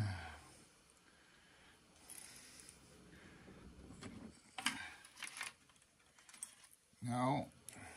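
Keys rattle and click in the locks of an old cash register being scrapped, sparse metallic clicks and scrapes close by over quiet background, ending in a short louder clunk.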